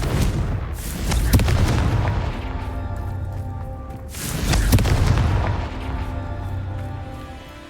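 Confringo fire spells explode in the video game Hogwarts Legacy: two heavy booming blasts a few seconds apart, each with a sharp crack followed by a rumbling tail.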